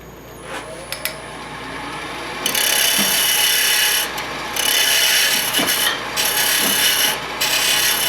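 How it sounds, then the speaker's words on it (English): A parting tool cuts into a spinning wooden box blank on a woodturning lathe, giving harsh scraping bursts over the lathe's steady hum, close and loud, with short pauses between cuts and no talk. "I start out with a parting tool."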